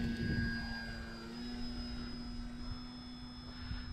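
An FMS PA-18 Super Cub 1300 mm RC plane taking off from grass, a steady electric motor whine with a sustained tonal hum, moderately distant and even throughout.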